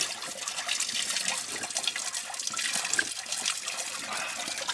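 Water from a spring fountain on a Trabzon plateau runs steadily, a close, continuous splashing and trickling stream heard alone with no talk.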